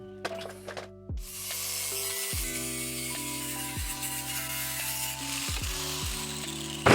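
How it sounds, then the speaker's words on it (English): Cutoff wheel cutting into a steel Harbor Freight anvil: a loud, close, continuous hissing grind with a humming motor whose pitch sags repeatedly as the wheel bites into the metal. "I use a cutoff wheel to notch in where the horn's going to meet the step"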